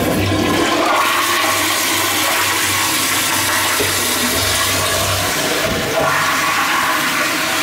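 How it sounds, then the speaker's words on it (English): Two American Standard toilets flush together in a public restroom, a loud, steady rushing and gurgling of water that lasts several seconds, then surges again near the end as the bowls refill. "Alright, flush at the same time."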